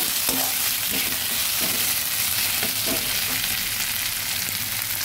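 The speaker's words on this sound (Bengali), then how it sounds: "আদা আর পেঁয়াজটা ভালোভাবে নেড়ে দিচ্ছি।" Ginger and chopped onion frying in a pan, a dense, constant sizzle with repeated stirring scrapes, close and fairly loud with no voices.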